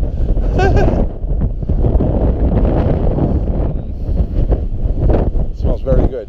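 Strong wind buffets the microphone along an outdoor trail, a loud continuous rumbling roar that swells and gusts throughout, with a person talking over it.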